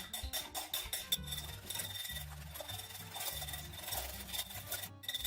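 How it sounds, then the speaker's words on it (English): Pasture-raised eggs whisked two at a time in a bowl, a fast rhythmic scraping and ticking of the whisk repeated in quick regular strokes, close and fairly quiet with no talk over it. "I'm just whisking the eggs 2 at a time"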